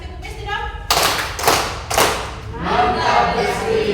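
A group claps a short patterned cheer rhythm at a financing training session for bank clients: a voice speaks first, then three sharp loud claps in sequence, followed by a looser run of clapping.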